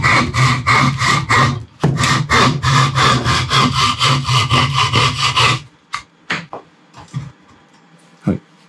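A hand saw cuts wood along a circular-saw kerf for a carpentry joint, with rapid, steady, loud back-and-forth strokes close up, then a pause and a few scattered, softer knocks and scrapes.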